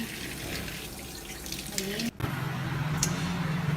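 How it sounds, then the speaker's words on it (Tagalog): Water runs from a tap over eggs being rinsed, with a brief break partway through, then the flow resumes steadily; a voice speaks quietly underneath. "Hugas-hugas para malinis."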